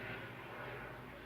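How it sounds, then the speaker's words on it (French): A gendarmerie helicopter passes overhead, heard as a steady, broad engine and rotor drone that stays loud and even throughout the short stretch, with no talk over it. "Je pense que c'est un hélicoptère de la gendarmerie."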